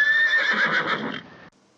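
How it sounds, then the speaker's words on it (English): A horse's whinny rings out loud and close for about a second and a half, a wavering high neigh that stops abruptly into near silence. "It sounded like a horse."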